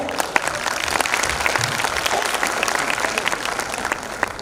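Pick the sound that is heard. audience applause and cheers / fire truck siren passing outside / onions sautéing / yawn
audience applause and cheers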